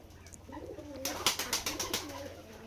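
Domestic and foreign pigeons at a pigeon farm in Jessore coo continuously in low warbling tones, with a short run of sharp rustling bursts midway that sounds like flapping wings.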